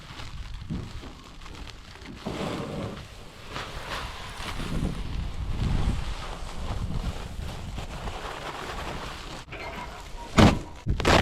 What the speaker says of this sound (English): It's only like 9 o'clock right now, and it's already windy.